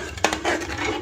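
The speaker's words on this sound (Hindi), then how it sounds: "अब बस इसमें चम्मच हिलाते जाएंगे" A spoon scraping and clinking against a pan while stirring semolina halwa, a few quick close metallic taps and scrapes.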